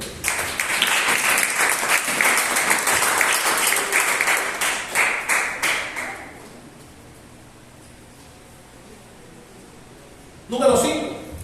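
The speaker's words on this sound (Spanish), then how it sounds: "Dale un aplauso al Rey de Dios." A church congregation applauds loudly for several seconds, clapping thinning and fading out, followed by near silence and then a brief burst of noise near the end.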